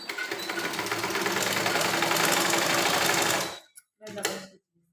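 A sewing machine runs fast and steady while stitching a lined blouse, a loud continuous whirring rattle for about three and a half seconds, then stops, followed by a short restart burst and quiet.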